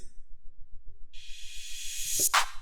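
A bright crash cymbal in an Afrobeat drum fill washes in and swells, then cuts off with a sharp hit, over a quiet, steady low thumping beat.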